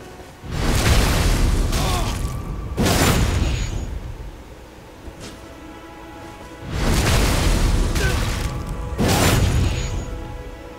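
Ash of War weapon attacks in Elden Ring, booming bursts that swell and fade in several heavy waves with rumbling impacts between, loud and close with no speech.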